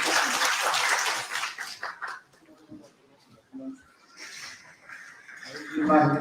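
Crowd applause rings out for the keynote speaker at a political rally in Kano State. It is a dense burst for about two seconds, then gives way to speech and quieter murmuring, with a brief swell near the end.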